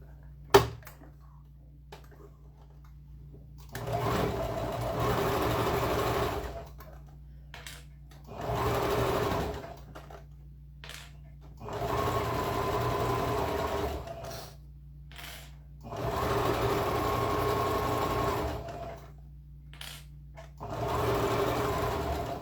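A sewing machine stitches a shoulder bag in repeated bursts of rapid, steady whirring, each lasting a second or two, separated by short quiet pauses and a soft background hum.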